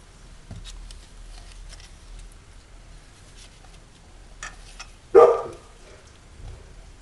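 An agitated dog gives a single sharp bark indoors after a stretch of quiet, faint background noise, with a softer sound following shortly after.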